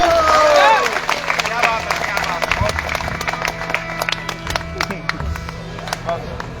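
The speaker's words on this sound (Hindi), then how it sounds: "ताली ताली ताली।" Crowd applause breaks out at a political speech in West Champaran, Bihar, a burst of clapping and cheering that gradually thins into scattered claps and murmuring crowd noise.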